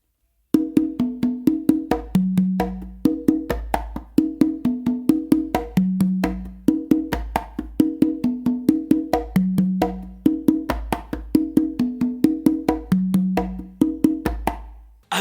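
Three congas play a spicy melody at a slow tempo, with steady open tones and slaps in a repeating pattern, close and alone.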